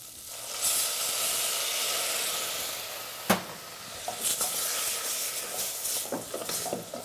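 Hot pan sizzles and hisses steadily as squid is deglazed with prawn jus and water, a broad frying crackle with a sharp burst partway through and scattered spits and pops afterward.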